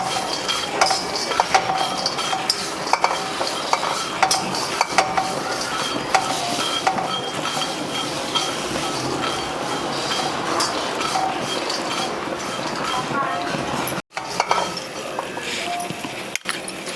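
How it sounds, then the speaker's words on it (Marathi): Peanuts, sesame seeds and cumin dry-roast in a pan, producing a continuous bright rattle and clinking of seeds shifting against metal, with frequent stirring scrapes and a brief dropout near the end. "शेंगदाण्यासोबतच जिरी आणि तीळ भाजायचे आहेत."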